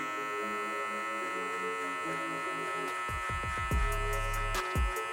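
Hair clippers fitted with a 1.5 guard, lever fully open, buzzing steadily while cutting a mid fade, with a constant electric hum and brief crackling bursts as the blades bite into hair.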